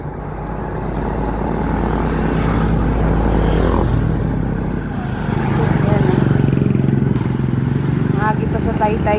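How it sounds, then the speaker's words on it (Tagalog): A motorcycle ridden on a hometown road in the Philippines, its engine droning loud and close throughout, rising in pitch as it accelerates, with steady wind rush and a voice speaking over it near the end. "Hindi, masakay ko motor."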